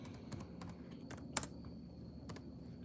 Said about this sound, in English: I'm typing that in right now